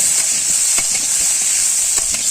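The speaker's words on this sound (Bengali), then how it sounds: "এগুলোকে আমি দু থেকে তিন মিনিট একটু ভেজে নেব হালকা লাল লাল করে" Potatoes frying in oil with cumin for a bitter gourd and potato curry, giving a steady close sizzle broken by soft scraping stirs.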